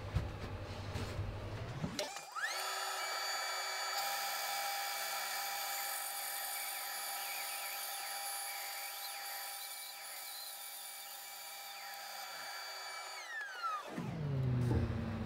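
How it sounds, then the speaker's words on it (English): A bandsaw runs steadily for about ten seconds cutting the side profile of a guitar neck blank, a loud continuous high whine with dense harmonics that spins up at the start and winds down at the end. "And now all I have to do is follow this line with the bandsaw."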